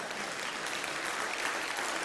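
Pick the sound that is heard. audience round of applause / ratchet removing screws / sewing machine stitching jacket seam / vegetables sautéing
audience round of applause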